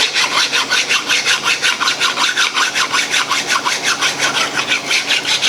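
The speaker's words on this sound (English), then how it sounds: "you can just use this to flatten where you've applied it" A plastic scraper drags in quick, even back-and-forth strokes across repair filler on an old American Empire-style wooden fern stand, a steady scratchy rasping rhythm, close and alone.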